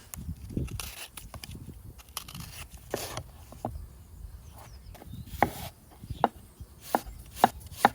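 Onion being chopped with a knife on a board, a close run of irregular crisp knocks that speeds into sharper, louder chops toward the end, with no talking.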